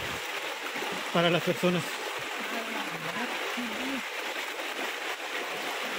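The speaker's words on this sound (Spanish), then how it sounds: "Muchísima agua que está arrastrando el río que acaba de desbordar." The overflowing Lagartero river rushes in a loud, steady broadband roar of fast water, with someone briefly talking over it.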